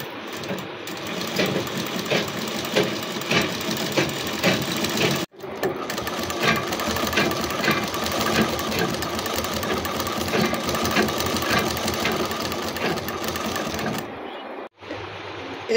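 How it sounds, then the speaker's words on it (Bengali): Domestic sewing machine hemming the fall onto a saree, a steady close whirring run with fast rhythmic stitching clatter that stops briefly mid-way, then resumes before cutting off near the end. "নিচের দিকটা তোমরা অবশ্যই মেশিনে মুড়ে নেবে, আর ওপরের দিকটা হাতে সেলাই করতে হবে।"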